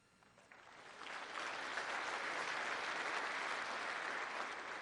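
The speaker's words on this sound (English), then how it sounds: "I'm going to have to learn to wait to let people applaud." An audience at the National Tea Party Convention breaks into applause during Sarah Palin's keynote speech, starting with a few claps and quickly swelling into steady, sustained clapping from a sizable crowd.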